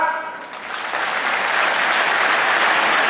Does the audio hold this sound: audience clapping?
yes